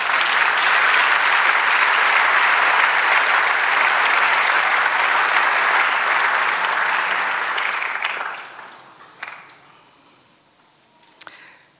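A church congregation applauds loudly and steadily for about eight seconds, then the clapping thins out and fades to a few scattered claps.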